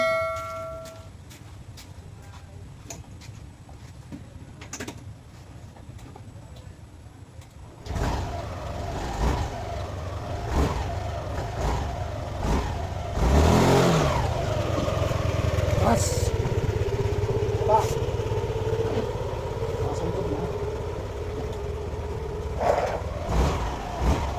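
A Yamaha Nmax v2 scooter engine idles at a raised speed of about 1,000 RPM, a steady hum that grows louder and fuller partway through, with a few clanks and background noise.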